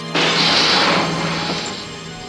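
A mirror smashed by a thrown footstool in a 1986 film scene: one sudden loud crash of breaking glass, followed by a bright shattering wash that slowly fades.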